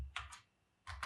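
Computer keyboard keys are pressed in two quick pairs of clicks for a Ctrl+Shift+N shortcut, close and clear against a quiet room.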